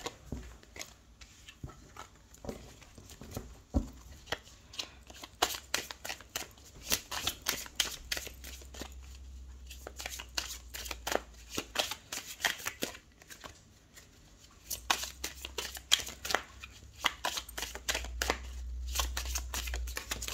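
Tarot cards are shuffled by hand in bursts of quick riffling and flicking, close and crisp, with short pauses and soft handling noises between rounds.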